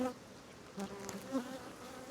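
Honey bees buzz faintly around an open hive with brood, honey and pollen on the frames, giving a soft, continuous hum with a few slightly louder swells.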